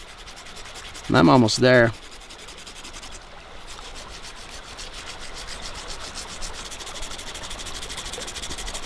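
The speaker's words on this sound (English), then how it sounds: "I just keep grinding away, shaving it until I get it to the shape I want." Primitive gorge hook ground on stone in water in a Utah red rock canyon: a steady, close rasping rub that runs continuously, with a short burst of speech near the start.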